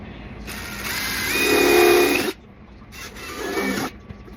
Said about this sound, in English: So I'll drill these holes here first.